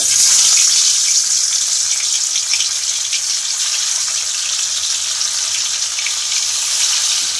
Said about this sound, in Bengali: তেলটা গরম হয়ে গেছে, মাছগুলো ছেড়ে দেব।